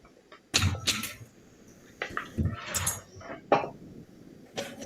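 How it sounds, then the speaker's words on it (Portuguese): Several short, dry coughs and throat-clearing sounds come in scattered bursts, fairly quiet and close, with no talking. "agora que eu vi que o microfone tava aberto, eu tossindo aqui"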